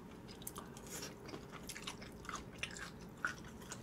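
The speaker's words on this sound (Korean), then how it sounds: "오늘은 씹는 소리가 좋을 것 같아요. 꼼장어도 그렇고 대창도 그렇고 약간 씹는 소리들이 좋아가지고" Close, quiet chewing of spicy stir-fried hagfish at a mukbang eating session, with soft wet mastication and a few crisp bites spread across the few seconds, no talk.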